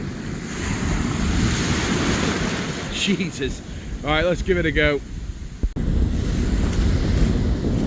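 Heavy sea waves over six feet break on a shore in a steady, loud wash under strong wind buffeting the microphone, while someone speaks briefly partway through.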